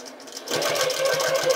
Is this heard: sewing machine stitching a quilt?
yes